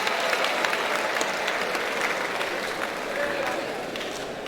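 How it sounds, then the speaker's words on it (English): Freshly arrived university students at an orientation programme burst into sustained applause, a dense steady roar of many hands clapping at close range from start to finish. "Clap for yourself again."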